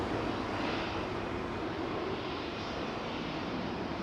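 An airliner arriving at London Heathrow Airport roars close and loud, its broad engine rush holding steady with no voices over it.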